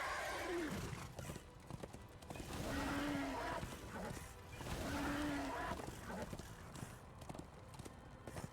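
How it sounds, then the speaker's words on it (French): Hooves clip-clop rhythmically as a horse gallops in the video game Darksiders 2, broken by two clear, drawn-out neighs; the riding sounds stay close and fairly loud. "Descends ce cheval de mort là, s'il te plaît."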